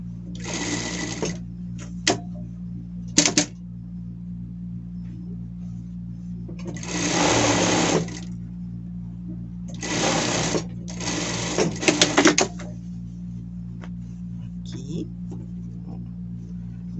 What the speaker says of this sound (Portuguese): passar uma costura aqui, fechando a manga e já aproveitando e fechando o lado